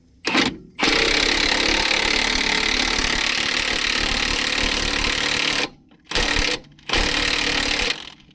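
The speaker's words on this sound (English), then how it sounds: "Now, you'll watch here as I crank this in, you can see this slack adjuster," Brake slack adjuster on a 12-ton wrecker being cranked in with a power tool, loud steady mechanical whirring bursts broken by short pauses, close up and with no talk.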